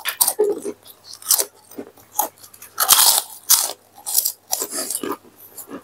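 Crunchy, close-up chewing of sambal karedok made with gendot chili, freshwater snapper and young coconut, with repeated rhythmic bites and crackling crunches and no talking.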